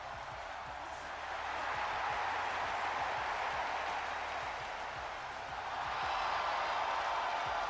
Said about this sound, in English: Listen to the crowd for the Street Profits here.